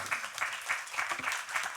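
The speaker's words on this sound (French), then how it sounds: "Je vous propose de les applaudir." Studio audience applauding four guests at the close of a French talk-show panel, a steady patter of clapping for under two seconds at moderate distance.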